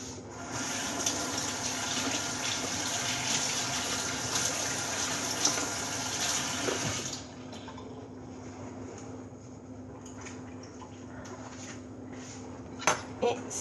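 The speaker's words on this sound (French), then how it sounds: "je vais me rincer les mains" Tap water runs steadily into a sink while hands are rinsed, a soft continuous splashing that eases slightly partway through.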